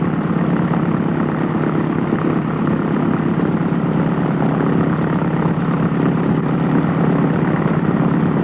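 An aircraft propeller engine warms up at a steady 1,000 RPM, producing a loud, even, continuous drone close by with no voices.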